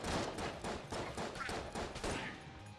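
Rapid enemy gunfire in the video game Enter the Gungeon, a dense run of repeated shots in quick bursts, steady and fairly loud throughout with no speech.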